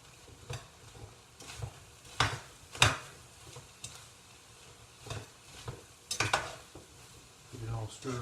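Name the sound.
stirring ground turkey in a frying pan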